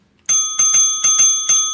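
A bright metallic bell rings in five quick, close strikes in an uneven rhythm, each one loud with a ringing tail, used as a sound effect on a Halloween-themed show.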